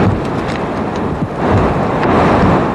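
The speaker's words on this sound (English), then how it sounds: "On the coast, waves crashed violently, pushed by the first hurricane-force winds." Hurricane-force winds roar along the coast as waves crash violently, forming a loud, continuous broadband rush with gusty surges and no pauses.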